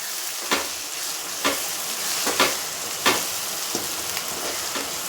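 Masala gravy with Kashmiri chili being stirred in a pan, a steady frying sizzle broken by several sharp scraping strokes of the spoon against the pan, close and without talk.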